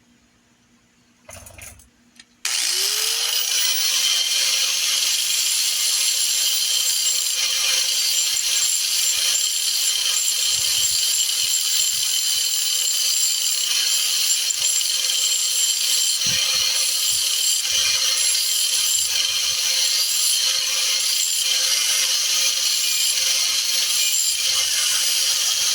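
A hedge trimmer with a freshly tightened, sharpened and greased blade cuts through twigs, some of them fat. After a short start it roars up to a loud, steady, buzzing whine that runs unbroken, with faint snips underneath.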